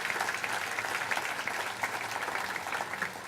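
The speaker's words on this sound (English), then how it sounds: "A nice round of applause for the folks here in Anaheim" A crowd applauding at an outdoor Veterans Day celebration in Anaheim, Orange County, steady dense clapping from many hands throughout, fairly near and even in volume.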